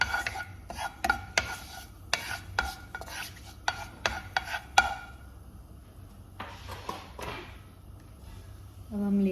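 Chickpeas being dry-roasted and stirred in a pan for kala chana chaat, a spatula scraping and clacking in a quick irregular run of knocks, then quieter rustling stirring, close up.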